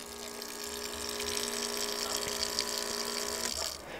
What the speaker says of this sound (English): Just press a button and the water comes out.